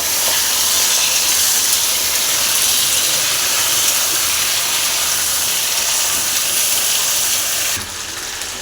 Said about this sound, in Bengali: টমেটোগুলো টমেটোগুলোও দিয়ে দিলাম একসঙ্গে কষিয়ে নেব